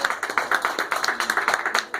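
A church congregation applauds during a Spanish-language sermon, a steady patter of many hands clapping at moderate distance with no talk over it.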